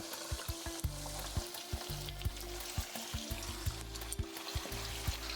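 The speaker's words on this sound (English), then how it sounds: "We're gonna take our breaded fish and we're just gonna slide this guy in." Breaded snapper frying in hot oil, Taiwanese style, with a steady bright sizzle and crackle running throughout, punctuated by frequent sharp pops and spits from the oil, close and loud with no voices.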